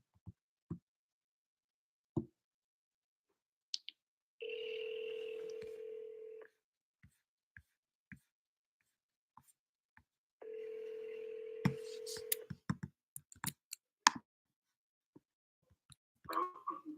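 A telephone dialed for a wholesale real estate follow-up call: scattered sharp key taps, then two long, steady electronic tones about two seconds each with a pause between, followed by more clicks, all close and clear with no talking.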